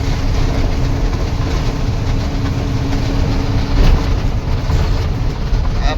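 A metro train rumbles steadily along the track, a continuous loud low roar with faint rhythmic clatter of the carriages throughout.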